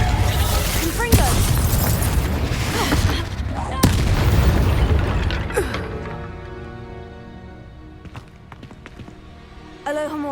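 Blasting-spell explosions in the Hogwarts Legacy video game, with loud booming bursts and crackling debris over a busy spell-combat backdrop, followed by quieter tonal game music.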